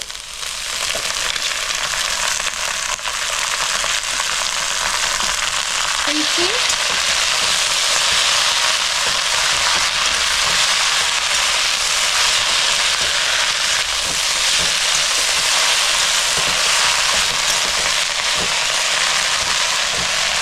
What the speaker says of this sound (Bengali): রসুন পেঁয়াজ আর লঙ্কা কাঁচা লঙ্কা আমি হালকা লাল করে ভেজে দিয়েছি দেখুন আমি এবার দিয়ে দিলাম